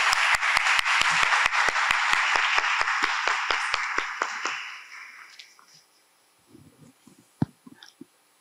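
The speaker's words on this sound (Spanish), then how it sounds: "Entonces recibimos con fuertes aplausos entonces al magíster Raúl Marcelo Doroteo." Applause welcoming a lecturer at a master class on Peruvian folklore and anthropology, with sharp distinct claps over a crowd wash that fades out after about four seconds, leaving quiet room noise and a few scattered knocks.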